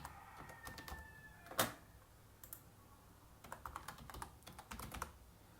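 A password is typed on a computer keyboard in quick, irregular bursts of soft key clicks, with one louder keystroke and a pause before another flurry of typing, all at a quiet level.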